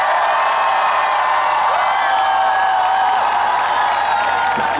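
A concert crowd at a performance cheers and shouts loudly, whoops and whistles rising over scattered clapping, a loud sustained roar filling the hall.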